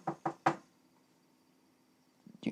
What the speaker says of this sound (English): someone's knocking at the door